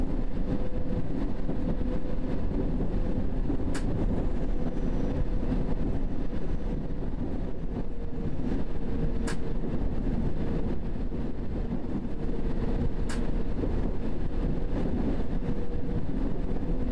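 London Underground Circle Line train in World of Subways 3, a steady low rumble of running through a tunnel, with three short sharp clicks spaced several seconds apart, no speech.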